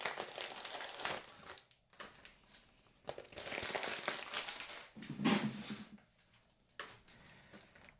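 Crinkling and tearing of plastic packaging as a package of untuned Shaun Jones jaw harps is cut open and unwrapped, close and fairly quiet, with bursts of crumpling and rustling spread across the stretch.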